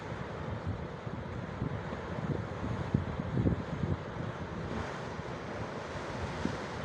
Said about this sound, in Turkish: Deniz de kaç gündür çok sinirli.